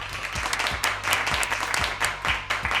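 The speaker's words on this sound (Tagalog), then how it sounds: "Ba't ka pumapalakpak?" An audience at a live show claps in a steady, rhythmic beat. The claps are loud, close and continuous, with no talk over them.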